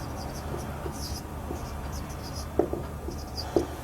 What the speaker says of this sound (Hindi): मैं उसका जवाब आपके सामने यहाँ पर जो है वो लिखता जाऊंगा